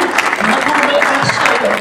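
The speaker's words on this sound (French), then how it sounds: "je voudrais d'abord vous demander de les applaudir moultement" A roomful of people clap for the presenters at the end of a talk, a steady, full wash of applause with a speaker's voice breaking through on top of it.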